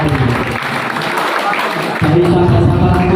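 A crowd at a dhikr and shalawat gathering in a mosque applauds in a dense, continuous wash, with a voice carrying over the clapping throughout.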